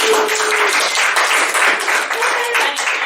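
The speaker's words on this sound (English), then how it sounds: "Let's have some applause for the creative writing program." Audience at a university poetry prize reading gives steady, full applause for an English department's creative writing program, a dense, close wash of clapping lasting the whole three seconds.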